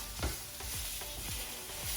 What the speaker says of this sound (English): stir them up again till they're tender for another